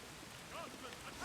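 Steady rain hisses across the battlefield in the Age of the Ring strategy game during a seven-player free-for-all match, an even wash of patter with a faint voice briefly rising over it.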